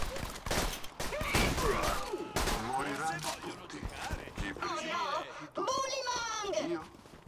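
Bursts of rapid gunfire from the video game Borderlands 2 rattle along throughout, with voices talking loudly over the shooting.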